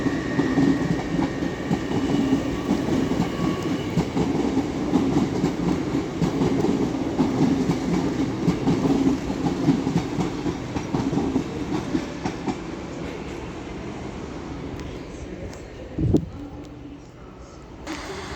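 A Class 801 train, unit 801-109 at the rear, passes through Doncaster station on the East Coast Main Line with a steady loud rumble and clatter of wheels on rail, easing off near the end with a brief thump.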